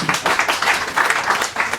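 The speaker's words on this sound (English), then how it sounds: "Please, everybody, a round of applause." A crowd applauds, a dense patter of many hands clapping steadily.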